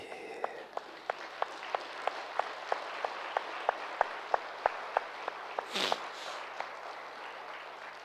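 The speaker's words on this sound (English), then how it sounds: "Just clap loudly." A group's sharp claps ring out in a steady, evenly spaced rhythm, about two per second, during a yoga session, with a brief rush of noise near the end.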